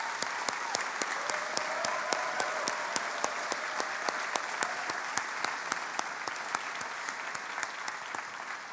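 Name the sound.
commencement audience applause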